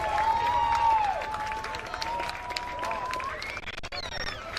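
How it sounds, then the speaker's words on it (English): An audience at the 83rd Apple Festival gives the stage performers a round of applause, the clapping a continuous patter at moderate distance, with a thin ringing tone and some voices over it. "give these people on the stage up here one last round of applause"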